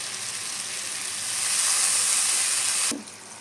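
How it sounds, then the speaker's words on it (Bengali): Water poured into hot oil and spice paste for a pointed gourd (potol) dish sends up a loud, hissing sizzle that swells over a couple of seconds, then drops off sharply and leaves a quieter simmer. "আমি এখন এক এক করে একটু জল দিয়ে দেবো"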